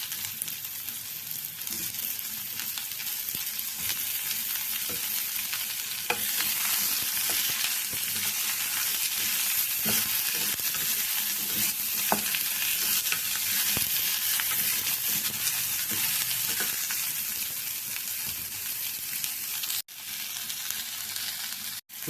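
Pieces of ash gourd (white pumpkin) fry in a pan for kootu, giving a loud, steady sizzle with scattered stirring clicks and scrapes and no talk. The sizzle briefly cuts out near the end.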